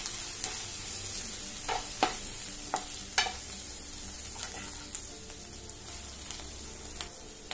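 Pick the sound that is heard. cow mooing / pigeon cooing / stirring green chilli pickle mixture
stirring green chilli pickle mixture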